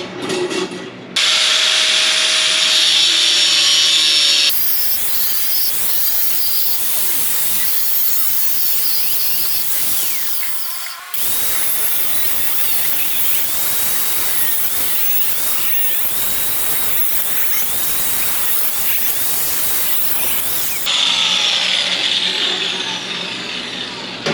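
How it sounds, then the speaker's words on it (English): An angle grinder cuts through a steel ammo can, a loud continuous high-pitched whine and grinding screech running nearly the whole time, briefly dropping out once before resuming. "we're just going to cut along right here with the angle grinder and right down there with the angle grinder"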